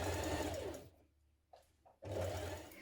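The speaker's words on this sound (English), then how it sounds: "Now we're going to stitch that in place with a 1 centimetre seam." A sewing machine running a 1 centimetre seam on a dress gives a steady close whir that stops for about a second, broken only by a couple of faint clicks, then starts up again at the same loud, even pace.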